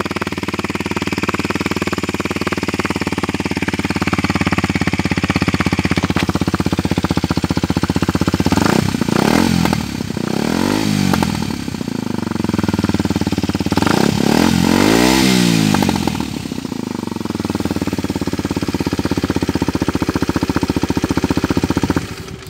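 A Kawasaki Ninja motorcycle engine with a loud, throaty Arrow aftermarket exhaust with welded baffle rumbles steadily, with two sharp revving surges midway that rise and fall before settling back to idle.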